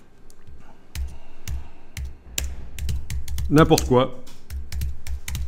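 Someone types on a computer keyboard, tapping a title in quick irregular clicks and short bursts, with a brief spoken remark in French partway through.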